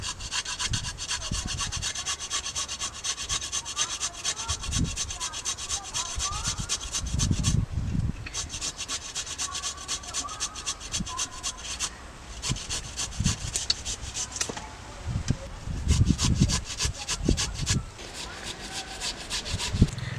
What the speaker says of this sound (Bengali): একটা গেটার নিয়েছি গেটার দিয়ে গ্রেট করে নিচ্ছি